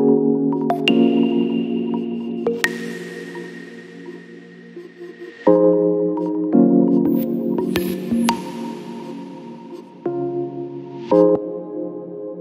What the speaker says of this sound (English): you can hear this sort of Rhodes sound